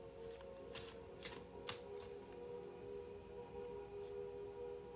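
Tarot cards being shuffled in several quick riffling bursts near the start, over a steady low hum in a quiet room, with the later handling soft and faint.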